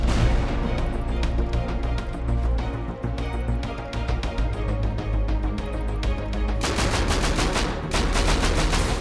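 Dense, continuous gunfire and rocket blasts during a night base raid on a medieval star fort in Rust, rapid overlapping bursts and volleys, loud and sustained throughout.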